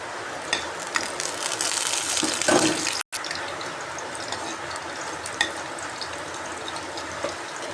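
Crushed unpeeled garlic fries in tempering oil for crab sukka, producing a continuous loud sizzle with light stirring scrapes and a brief dropout in the middle, without speech.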